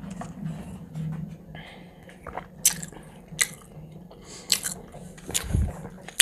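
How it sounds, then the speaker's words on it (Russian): Close, wet chewing and biting of sandwiches topped with sprats, with irregular crunchy bites and smacking mouth sounds and occasional soft breathy noises between them. "продолжаем жрать, продолжаем чавкать"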